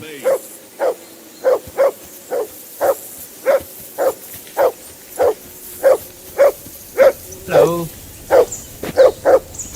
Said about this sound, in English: Hey, call off that dog and then we can talk.